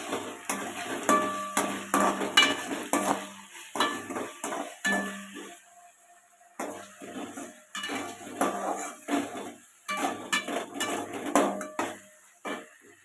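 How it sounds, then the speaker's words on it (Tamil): Ginger garlic paste sizzling in a pan as a metal spoon stirs and scrapes it, with rhythmic clinks and scraping strokes in close bursts, separated by brief pauses. "இப்போ நம்ம வந்துங்க இஞ்சி பூண்டு பேஸ்ட்டு சேர்த்துக்கலாங்க. இது நல்லா ஒரு நிமிஷம் கொஞ்சம் பச்சை வாசனை வரை வணக்கிக்கலாங்க"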